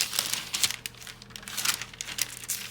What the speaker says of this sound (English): Love those sounds of crinkly paper, am I right?